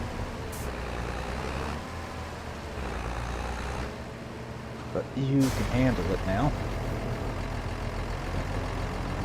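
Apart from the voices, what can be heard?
big tractor pulling a small wagon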